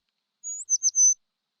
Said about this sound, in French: Oui, un oiseau.